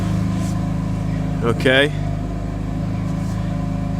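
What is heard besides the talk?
BMW M3 engine with titanium exhaust warming up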